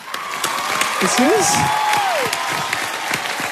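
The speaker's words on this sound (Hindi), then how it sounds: "वाह, जोरदार तालियां।" An audience at a dance talent show applauds and cheers after a performance, steady clapping under a whistle-like rising and falling tone, with voices mixed into the crowd noise.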